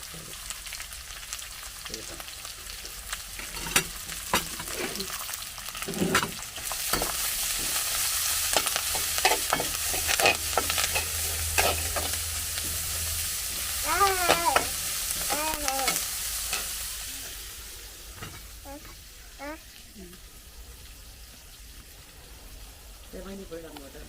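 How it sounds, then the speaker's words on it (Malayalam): Chopped tomatoes drop into a hot pan for goat brain roast, and a rising hiss of frying follows with scraping stirs and light clatter; a voice talks over parts of it. "തക്കാളി വീഴുന്നത്"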